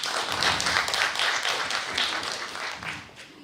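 An audience at an annual farmers' organisation meeting applauds a speaker as she takes her seat, with dense overlapping claps holding steady before gradually easing off.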